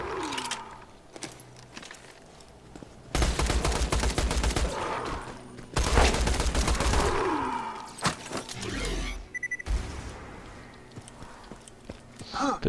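Gunfire in Borderlands 2, a video game: bursts of shots break out in several loud volleys, separated by quieter stretches of game sound.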